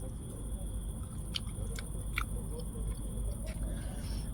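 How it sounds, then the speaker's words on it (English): Someone biting and chewing Slovak pickled cucumbers on a boat, several soft crunches and mouth noises close by over a steady low engine-like hum. "nu ska jag smaka de här slovakiska gurkorna"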